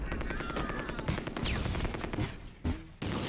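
Dense automatic and single-shot gunfire from a WWII tactical battle in the game Close Combat II, a rapid, continuous crackle of machine guns and rifles with scattered louder reports, brief pauses near the end.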